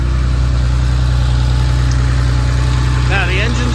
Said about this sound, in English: Now the engine's running